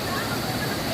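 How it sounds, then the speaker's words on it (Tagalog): Sprite Falls in Majayjay, Laguna, near Mount Banahaw, roars as a steady, dense rush of falling water, with a voice speaking over it. "Yan po yung Sprite Falls."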